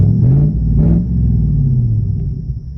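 A V8 engine in a project car idles with its exhaust removed, making a loud, close, deep rumble that swells briefly and then settles into a steady throb.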